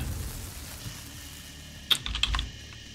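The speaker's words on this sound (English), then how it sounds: "sorry about keyboard sounds in the background." A short flurry of computer keyboard typing during a Doom (2016) game session, a few sharp clicks and keystrokes over a low hum.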